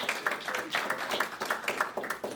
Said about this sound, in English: I want to give a big round of applause to Debbie Bowman for her leadership in decorating and putting it all together